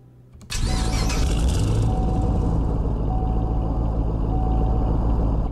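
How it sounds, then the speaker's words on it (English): A 2013 Chevrolet Camaro SS V8 cranks and fires after a brief quiet moment, then settles into a loud, steady, rumbling idle up close with no one talking. "So here's the new startup on the SS."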